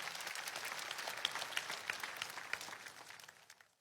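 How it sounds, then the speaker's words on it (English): An audience claps steadily for a few seconds in a hall, a dense patter of many hands with a few sharper individual claps, fading toward the end. "Shall we clap for wonderful Jesus Christ?"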